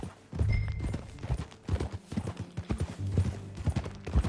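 Horse hooves clip-clopping at a riding pace in the Western game Red Dead Redemption 2, a steady rhythmic patter of close, moderately loud hoofbeats with a snort or two mixed in.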